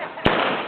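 A single sharp gunshot from a staged Wild West gunfight show at a ghost town attraction, one loud crack that fades quickly, heard alone.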